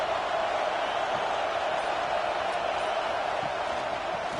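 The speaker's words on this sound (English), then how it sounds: "This crowd bringing the energy and noise early." Steady stadium crowd roar from the College Football 26 video game, a constant wash of noise at even loudness throughout, with no distinct cheers or breaks.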